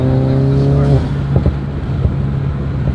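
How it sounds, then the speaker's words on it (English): Intake roar of a tuned 900 hp BMW M550 running E50 and methanol as the engine revs, a loud steady tone for about a second before falling off into rumbling with short pops and crackles. "the intake noises is unbeatable"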